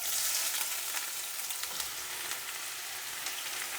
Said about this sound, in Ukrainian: І на помірному вогні смажу всю цю красу.